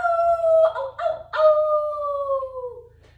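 A voice imitates a dog's howl during a children's yoga routine, a few drawn-out, wavering howls with brief breaks, close and clear, with nothing else behind them.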